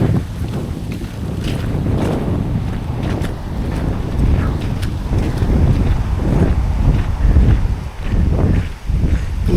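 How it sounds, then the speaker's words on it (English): Strong wind buffets the microphone in loud, continuous low rumbling gusts throughout, with no one talking. "Wow, windy."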